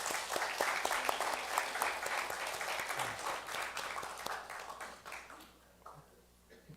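A church congregation applauds during a Sunday worship service, a dense, sustained round of clapping that fills the room and then thins out and tapers off near the end.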